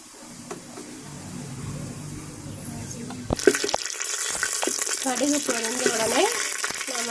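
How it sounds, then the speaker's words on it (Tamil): Mustard seeds hit hot oil and sizzle and crackle loudly, a busy frying spatter that keeps going after a quiet start. "எண்ணெய் காஞ்சிருச்சு கடுகு போட்டுடலாம் தாளிக்கிறதுக்கு"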